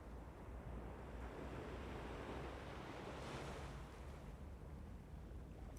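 Ocean waves washing onto a shore make a continuous broad roar of surf, with a swelling surge partway through and steady wind noise beneath, no voices present.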